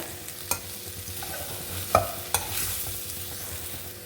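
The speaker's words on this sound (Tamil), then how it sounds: "இதையும் நல்லா மிக்ஸ் பண்ணி விட்டுக்கோங்க." Small Chinese potatoes stir-fried with ground coconut in a pan, a low gentle sizzle with a few sharp spatula taps and scrapes as the mixture is stirred, no speech.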